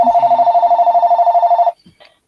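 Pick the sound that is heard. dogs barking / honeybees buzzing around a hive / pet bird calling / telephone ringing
telephone ringing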